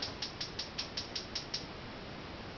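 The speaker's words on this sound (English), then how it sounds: "the first thing you need to do is start by turning your stove on" A stove knob is turned on, giving a quick run of about eight evenly spaced mechanical clicks over a couple of seconds, close and fairly faint against a steady background hiss.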